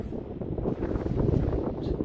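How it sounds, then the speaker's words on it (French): Wind gusting outdoors at the seaside at Le Touquet, buffeting the microphone with a steady low rumble and roar throughout, no voices heard. "Bon là il y a du vent là."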